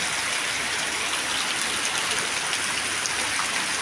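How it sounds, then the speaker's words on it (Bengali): Heavy rain pours down in a steady, dense hiss, close and unbroken throughout, with no talking, while the roads flood. "এই রাস্তাতে সকাল থেকে এত বৃষ্টি হলে হবে না?"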